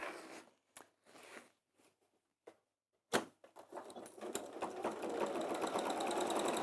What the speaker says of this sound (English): And in fact, we'll sew across the bottom first.